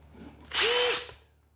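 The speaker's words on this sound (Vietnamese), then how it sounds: "Chế độ khoan bê tông đây." An 18V cordless drill in concrete drilling mode whirs up in one short burst, a high motor whine rising and then winding down within about a second, close and alone.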